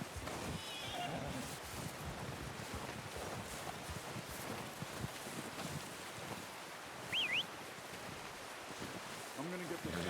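A horse in the video game Red Dead Redemption 2 gives a single brief whinny midway, set against steady windy outdoor game ambience with a few soft hoof and movement sounds.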